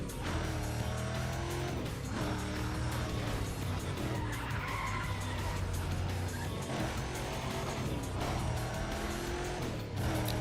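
A car oversteering in Need for Speed ProStreet, tires squealing and skidding continuously over a steady, loud engine drone, with repeated slides and no talking.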